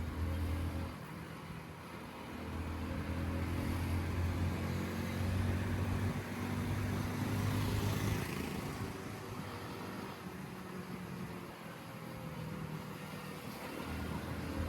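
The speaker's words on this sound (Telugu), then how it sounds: "ఈ చాలా వరకు ట్రాఫిక్ ఎక్కువైపోతుంది" Heavy road traffic flows past during a ride: a continuous rumble of car and truck engines, with swells of revving vehicles rising and falling at close to moderate distance.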